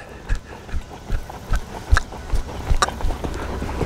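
A horse's hooves strike the ground in a steady run of loud, close clip-clops, about two beats per second, as the horse is driven forward into quick jumps during groundwork training.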